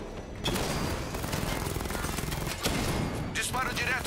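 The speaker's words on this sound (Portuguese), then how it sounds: "Disparo direto no cascavel." Sustained rapid gunfire in the Batman: Arkham Knight video game, a dense continuous volley lasting about four seconds with game voices mixed in.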